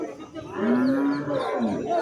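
Large calves low loudly and nearby at a cattle market in Chintamani, two overlapping drawn-out moos with a rough, throaty quality, surrounded by busy outdoor ambience.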